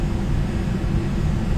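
The engine of a Douglas World Cruiser plane in a flight simulator game drones loudly and steadily, a close, low, throbbing rumble with no talk.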